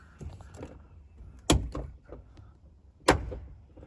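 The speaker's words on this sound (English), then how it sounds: "If you get that noise when you open your door, it's going to be the check strap" A 2007-2021 Toyota Tundra door with a worn check strap opens with two loud, sharp clunks about a second and a half apart, each followed by smaller knocks and rattles, close up.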